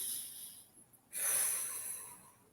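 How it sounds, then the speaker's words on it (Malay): A breathing exercise: one slow inhale through the nose, followed by a louder, breathy exhale through the mouth, close and alone in a quiet room. "kita cadangkan supaya tarik nafas melalui hidung, lepas tu kita keluarkan melalui mulut. Mesti berbunyi mulut."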